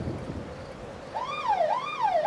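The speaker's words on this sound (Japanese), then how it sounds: "おお、サイレンが、サイレンが。" A wailing siren sweeps up and down in LittleBigPlanet 3, rising clearly over a low background rumble and cycling twice.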